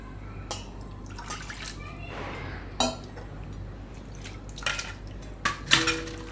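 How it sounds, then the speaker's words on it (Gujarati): Water poured into a bowl of soaked poha and semolina batter for appam gives faint drips and light clinks, with a few small splashes near the end over a quiet kitchen background. "થોડુંક પાણી નાખશું આપણે એમાં નાખીને"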